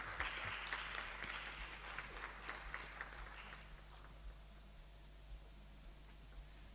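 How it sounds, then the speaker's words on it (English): Audience applause greets a woman called to the stage at an International Women's Day dialogue, a moderately loud burst of clapping for the first few seconds that thins and fades into quiet room tone. "Give her a round of applause."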